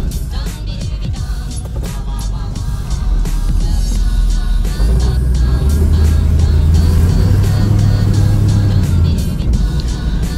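A 1966 car engine runs loudly while driving, a steady rumble that swells as it picks up speed and holds a droning revving note, with no one talking over it.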